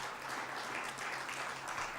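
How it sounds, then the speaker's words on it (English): Faint applause from a conference audience, a continuous patter of clapping heard from a distance. "Let's clap for this team."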